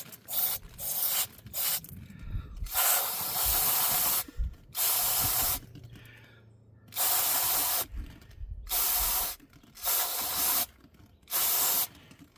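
Cleaner sprayed onto the mass air flow sensor of a 2018 L5P Duramax in a series of close, sharp hissing bursts, some long and some short, separated by brief pauses.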